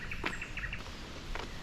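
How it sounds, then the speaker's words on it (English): Birds sing and chirp in a Swedish nature reserve near Örebro, with short, high tweets repeating faintly at a distance over quiet outdoor ambience. "You can hear the birds singing."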